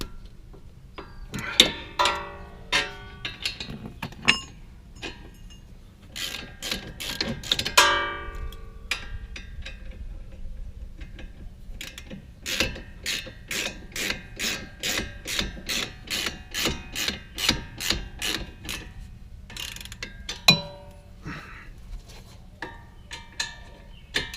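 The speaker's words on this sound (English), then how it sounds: "give it a good tighten up on these bolts" Ratcheting clicks from a wrench tightening brake rotor bolts on a 2005 Honda Pilot, with bursts of quick mechanical ticks, a steady run of evenly spaced clicks in the middle, and a few scattered clacks toward the end, close and moderately loud.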